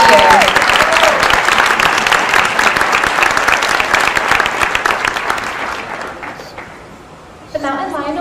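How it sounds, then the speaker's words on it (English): Loud, full applause from an audience honoring the Teacher of the Year at a senior awards celebration; the clapping fades out over several seconds before a voice begins speaking near the end. "Another round of applause for our Teacher of the Year"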